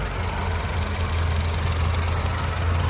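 A 2012 Toyota Camry SE with a 2.5 liter inline engine idles steadily, a smooth low hum with a constant even drone and no speech over it.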